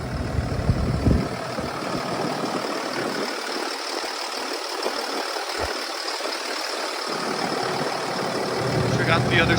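A 6.7 liter Cummins ISB inline-six diesel in a 2017 International DuraStar 4300 box truck idles with a steady mid-pitched drone, close by, while someone talks over it.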